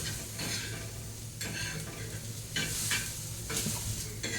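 Onion roasting in a pan until crisp and browned for vangyache bharit gives a steady, close sizzle, broken by repeated louder scraping strokes of a spatula stirring it.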